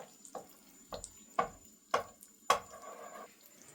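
Remaining chicken pieces dropped into a hot pan for butter chicken and frying, with several sharp sizzling bursts at a regular pace, close and moderately loud, and no talking.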